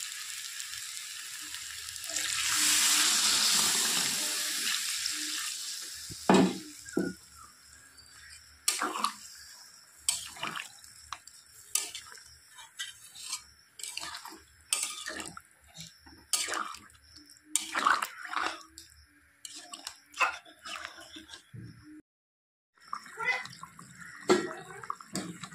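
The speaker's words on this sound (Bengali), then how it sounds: "এখন দিয়ে দেব ঝোল।" Broth being poured into a pan of chicken kosha curry, a broad rushing splash for a few seconds, then scattered sizzles, clinks and light bubbling as the liquid heats in the pan.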